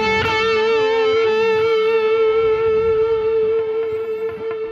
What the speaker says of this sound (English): Let me put in a harder distortion.